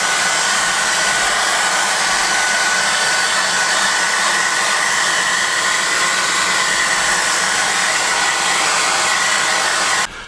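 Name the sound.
hair dryer on low setting drying rock salt on model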